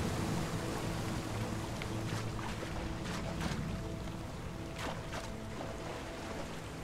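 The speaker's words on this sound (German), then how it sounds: "Sehr viele Wasserfälle gibt es hier." Steady, dense rush of falling water from waterfalls in the video game RIME, a continuous broadband wash holding at an even level throughout, with faint splashy accents and no voices.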